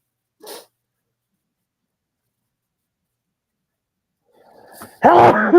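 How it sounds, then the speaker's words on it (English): A person sneezes once, loud and close, with a short sharp burst followed by a brief trailing breath, after a small earlier sound and a long quiet gap. "Sneeze incoming."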